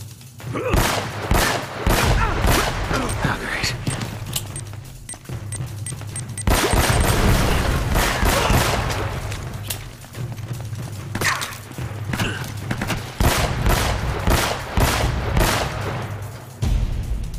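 Sustained gunfire from an Uncharted: Drake's Fortune firefight, with dense bursts and rapid shots that keep going almost without a pause, loud and close, plus heavier thumps and booms layered over a low, steady rumble of background noise.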